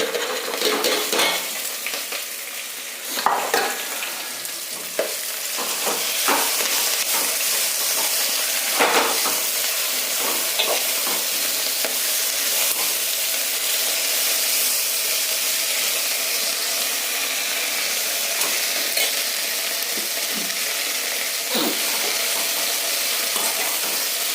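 Turmeric and curry leaves fry in a hot pan, a dense continuous sizzle and crackle throughout with occasional utensil stirring knocks near the start, close and steady with no talk.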